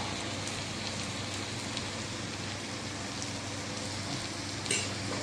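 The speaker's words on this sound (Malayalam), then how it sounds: "ഇത് എല്ലാം കൂടെ ഒന്ന് ഇളക്കി ഒരു ചെറിയ രീതിയിലൊന്ന് വഴന്ന് വരണം" Chicken sausage with chilli powder, pepper and masala sizzles and is stirred in a pan, with a steady close crackling fry and one brief clink near the end.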